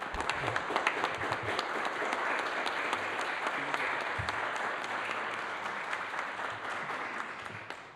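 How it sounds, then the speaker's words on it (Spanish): Strong applause from an audience at an event opening on disability inclusion, a dense, even patter of many hands clapping for about eight seconds, tapering slightly at the close. "Quiero que le brindemos un fuerte aplauso a Fernando"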